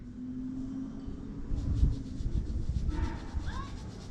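Street racing cars run somewhere in the distance, heard as a low, continuous engine rumble that swells briefly midway, with a faint steady hum behind it and no nearby voices.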